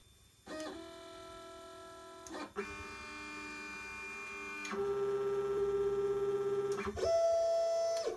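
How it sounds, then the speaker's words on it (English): A LitePlacer pick-and-place machine homing, its stepper motors whining in several distinct pitched runs separated by short clicks and stops, each move louder and steadier, close and alone without voices. "First, we need to home the machine."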